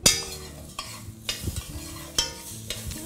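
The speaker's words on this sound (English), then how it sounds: "I'm just gonna cook it and just coat the grains with that seasoning and the natto." Rice grains being stirred in a pot with sazon seasoning and natto while cooking for Puerto Rican arroz con gandules, giving a few scraping stirs with soft sizzling between them, close and fairly quiet, with no talking.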